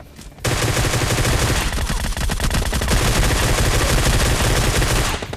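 Sustained rapid automatic fire from a Groza rifle in PUBG Mobile Lite, loud and continuous for about five seconds with no voices over it.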